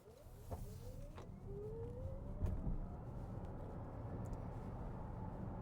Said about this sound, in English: So what's the acceleration like from the BZ4X?